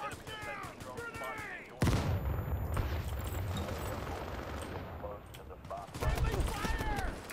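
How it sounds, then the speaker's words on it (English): Rapid automatic gunfire and explosions ring out in a Call of Duty-style online shooter match, a dense sustained burst at mid distance, with someone talking over the action before and after. "Who the fuck is shooting me?"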